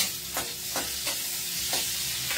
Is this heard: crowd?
no